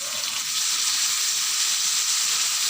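Tomatoes hiss and sizzle loudly in hot oil in a frying pan with garlic, a steady close crackling wash throughout.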